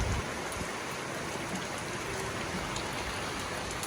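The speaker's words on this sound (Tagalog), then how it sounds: "Ulan na." Rain falling outdoors at a jeepney parts yard: a steady, even hiss of drops that holds at the same level throughout, with no talk.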